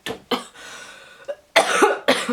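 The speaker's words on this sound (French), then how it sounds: "Je risque de tousser, j'ai des petites crises de toux." A woman coughs in a small fit of about four or five harsh bursts, with short pauses and a faint breath between them, close to the microphone and with no speech.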